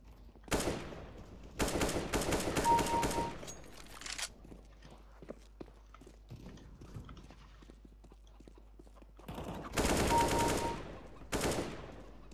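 Bursts of automatic gunfire in the video game CSGO, several rapid volleys separated by quieter stretches of footsteps and faint game sounds.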